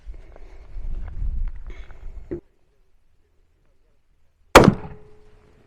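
A single sharp shot from a CVA Optima V2 pistol on an outdoor range cracks after a few seconds of quiet, following some handling noise and faint movement, then rings down briefly.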